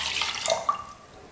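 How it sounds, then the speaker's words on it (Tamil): Water pours into a cooking pot for a sweet payasam made with milk, a short close splashing trickle with a brief louder gush partway through, no talk. "நாலு கப் அளவுக்கு தண்ணி சேர்த்துக்கிறேன்"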